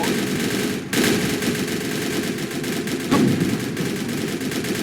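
Anti-aircraft gun fire in the Roblox game General Quarters: a loud, dense, continuous roar of rapid shots that fills the whole stretch with no pauses, with a brief dip early on, and no voices.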